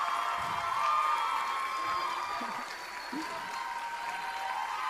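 Crowd applause and cheering at a law school speech event, heard faintly as a distant, steady wash of clapping behind a constant electronic hum, with a few scattered shouts.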